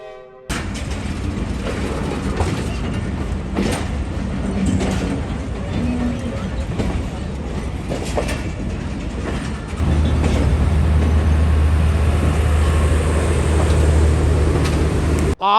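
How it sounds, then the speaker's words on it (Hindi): The Jaffar Express pulls out of Lahore railway station, a steady rumble with rhythmic wheel clatter and a deep, continuous low drone building in the second half. "अब जाफर एक्सप्रेस चल पड़ी है।"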